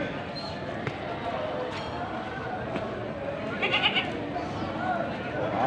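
Goats bleat several times amid a busy outdoor livestock market crowd, with people talking and scattered knocks and thumps around them.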